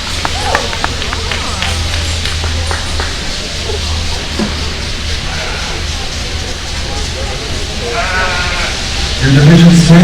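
Sheep bleating and shuffling in a show ring at the 2019 Arizona National breeding sheep show, with a steady low hum throughout and a louder bleat near the end, no voice over it.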